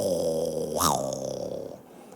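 A voice imitates the snoring of a sleeping husband, a single drawn-out rasping snore with a sharp snorting peak midway, close and fairly loud, fading into a breathy tail.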